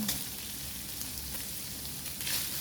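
Garlic hits a hot frying pan while cooking pancit bihon for breakfast, giving a steady, close sizzle with a few brighter crackles.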